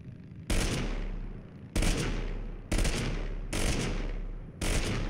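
A Scar H rifle fires in the game TABG in five loud, separate bursts of rapid gunfire, each snapping in sharply and then ringing out, spaced roughly a second apart, with no talk.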